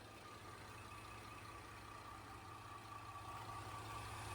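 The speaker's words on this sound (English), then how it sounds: "You can hear just how well this engine runs." A flood-damaged Cadillac STS engine idles steadily, a smooth, even low rumble with a constant hum and no voices over it.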